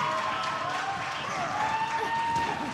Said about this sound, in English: the NYXL crowd comes to life because they're cheering their boys on